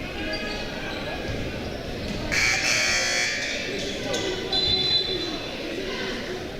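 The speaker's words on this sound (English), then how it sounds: "And I don't know why we had a buzzer there." Buzzer sounding during a high school basketball game between Canton Central Catholic and Perry in Ohio, two loud bursts over steady gym crowd noise and ball bounces, with commentators talking throughout.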